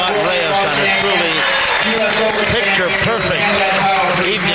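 A large crowd at the 1995 World 8-Ball Championship, Efren Reyes versus Jeff Carter, claps and cheers in a steady wash of applause to salute the new champion, with someone talking over it throughout.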